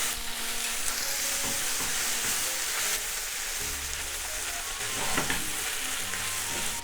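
Udon noodles and salted cabbage are stir-fried for yaki udon, giving a loud, continuous sizzle with scraping stirs throughout, close up and without speech.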